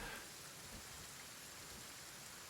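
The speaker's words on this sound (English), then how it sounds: "Got the rain too." Rain falls in the Kenshi video game as a faint, even patter and hiss that stays steady throughout, with no voices over it.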